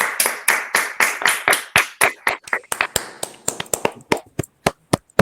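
Audience members clap at an online law class session, starting as a quick rhythmic burst of close, loud claps that thins into scattered, separate claps toward the end.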